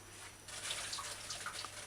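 Chicken legs are rinsed under running fresh water, a close, steady trickle with small splashes and drips.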